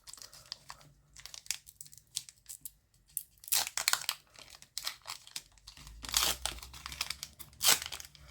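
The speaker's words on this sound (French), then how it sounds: "nous allons ouvrir le 3e booster" A Pokémon Go booster pack is torn open by hand: close, crinkly foil rips and crumpling bursts in an uneven series, growing louder toward the end.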